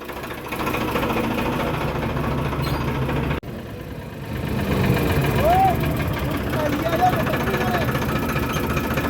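A tractor engine chugs steadily and loudly close by, its low rumble continuing through a brief dropout, while people talk over it on a village road.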